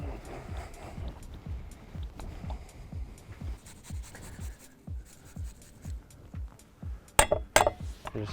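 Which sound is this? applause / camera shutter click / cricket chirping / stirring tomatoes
stirring tomatoes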